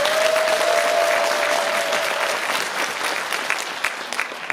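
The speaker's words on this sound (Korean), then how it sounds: "한번 뜨겁게 한 번 박수 한번 주세요." A crowd at a Pocheon citizens' festival celebrating the Dobongsan–Pocheon rail line applauds the committee chairman, a dense, steady wash of clapping close by, with a thin sustained tone over the first half that gradually thins toward the end.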